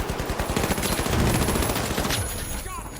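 Rapid automatic gunfire from a team firing together in a video game, a dense continuous burst of shots that fills the whole stretch at steady loudness before thinning toward the end.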